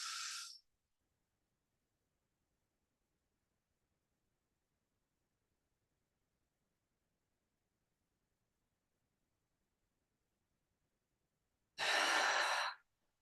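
A deep breath drawn in during a relaxation breathing exercise, a brief airy inhale at the start and a longer, louder breath near the end, separated by near silence.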